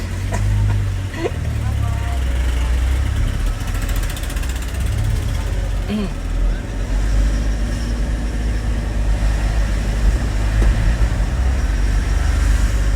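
A Toyota Hiace GL Grandia van with a 2.8-litre diesel and automatic gearbox moves off, its low engine rumble steady and close inside the cabin while someone talks over it.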